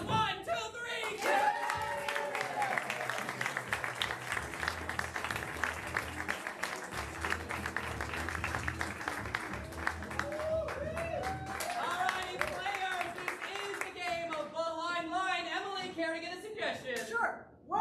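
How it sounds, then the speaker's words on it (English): A round of applause from an audience, clapping that runs under continuous talk and occasional chuckles, moderately loud and sustained throughout. "get back in here with a round of applause"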